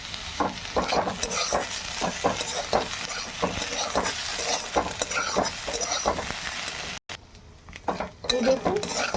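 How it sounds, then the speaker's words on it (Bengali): Mushrooms and boiled potato frying in a pan, stirred with a utensil that scrapes and clinks against the metal in steady repeated strokes over a constant sizzle, with a short break near the end. "এই দেখুন ছাতুর সাথে আমি আলুটা দিয়ে দিলাম। আমার এটা ভাজা হয়ে গেছে।"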